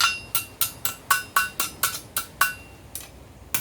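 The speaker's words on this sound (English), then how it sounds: "roll it over the edge of the anvil, over the horn." A steady run of about a dozen ringing hammer blows lands on hot metal over an anvil horn at a forge, evenly paced and close, with a bright metallic ring on each strike.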